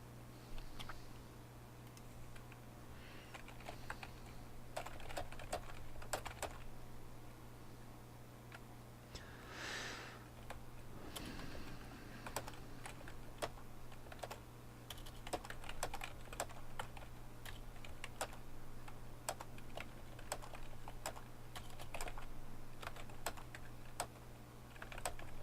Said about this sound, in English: I'm typing a reply here.